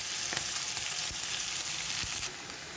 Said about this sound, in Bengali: এবারে ওই কড়াইয়ের মধ্যে তেলে পেঁয়াজটা দিয়ে দেবো। পেঁয়াজটাকে আমি লাল করে ভেজে নেব।